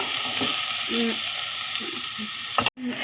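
Chillies, turmeric, beans and potatoes fry in hot oil, giving a steady close sizzle with a few soft stirring scrapes before a sharp clatter near the end.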